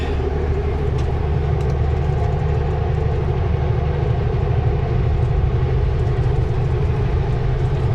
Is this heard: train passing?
yes